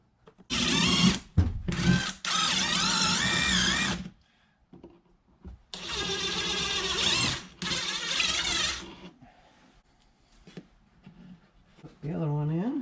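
A power drill bores mounting holes for a Bluetooth speaker bracket, sounding as two long whirring runs with short pauses between them, loud and close, and a brief voice comes near the end.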